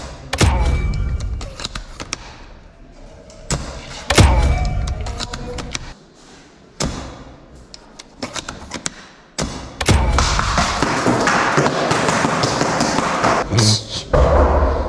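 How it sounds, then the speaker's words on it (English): Airsoft BBs smacking into cardboard boxes inside an abandoned hospital, a scattered run of sharp thuds and taps, some close and loud, with quieter stretches and talking in between. "They're shooting the cardboard boxes thinking they can get me."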